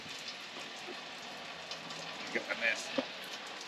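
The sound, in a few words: rain falling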